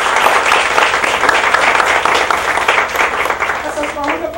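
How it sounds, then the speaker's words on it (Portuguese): Loud, dense applause from a lecture audience at UNIFACS rolls on without a break, with voices mixed into the clapping throughout. "Palmas para a administração"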